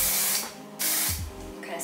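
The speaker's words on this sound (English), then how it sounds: "so I'm just going to do a light mist." Thermal hair spray misted onto hair from a spray bottle: two short, hissing bursts close up, separated by a pause, with a brief low vocal sound between them.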